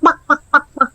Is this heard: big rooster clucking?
yes